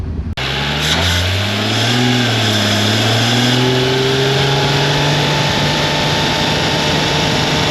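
A supercharged Mercedes SLK320 with the M112K engine roars up through the revs under hard acceleration, a loud, close, sustained pull with a rising engine tone and faint supercharger whine.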